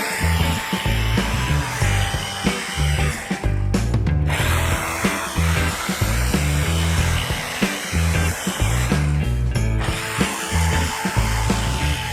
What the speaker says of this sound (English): So I drilled a hole for my bolt first